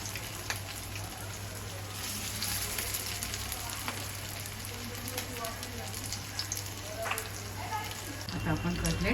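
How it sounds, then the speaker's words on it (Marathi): Soybean cutlets fry in hot oil in a pan, a steady crackling sizzle with a low hum beneath, and a brief voice near the end. "आता आपण हे तळायला घेऊया."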